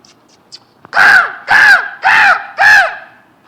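A voice imitating crows, four loud, harsh caws in an even rhythm, close and clear, after a few faint soft sounds.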